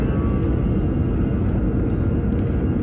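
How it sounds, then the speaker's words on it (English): Frontier Airlines Airbus A321-200 taking off from Chicago O'Hare, a loud continuous low roar and rumble heard from inside the cabin, steady throughout with no talking. "so it is takeoff time"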